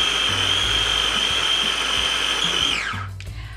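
A food processor whirs loudly and steadily as it blends hummus to a silky texture, a sustained high motor whine that winds down and stops near the end, leaving a faint low rumble.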